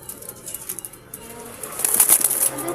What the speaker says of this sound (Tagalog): Dito guys yung kalapati.